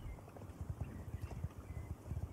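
Clip-clop of a Lusitano horse's hooves in the Star Stable Online video game, a quick, even rhythm of soft thuds moving along at a trot, faint and alone with no voices.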